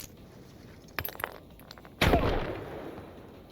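Frag grenade exploding in a video game: a few light clatters and shots, then a single sharp blast that rolls off with a rumbling tail.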